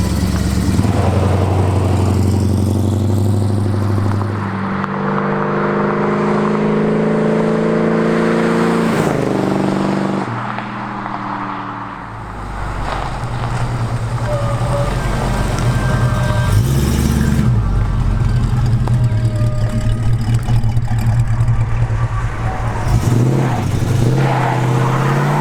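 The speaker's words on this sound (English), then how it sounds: "driving the Joe Dirt car in Oskaloosa, Iowa, once in a lifetime" The Joe Dirt movie car, driven in Oskaloosa, Iowa, idles loudly up close, then revs with rising and falling engine tones and pulls away, its steady engine drone carrying through to the end.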